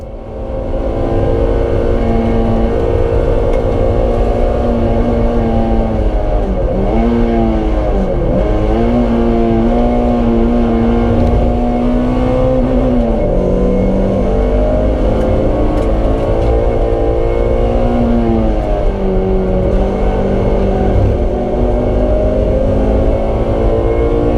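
A club race car in the BRSCC Clubsport Trophy at Silverstone, heard from onboard as the engine drones loudly down the straight, its pitch climbing through the gears with brief dips at each shift.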